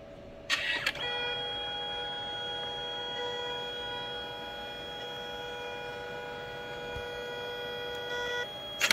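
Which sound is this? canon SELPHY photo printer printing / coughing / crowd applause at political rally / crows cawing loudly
canon SELPHY photo printer printing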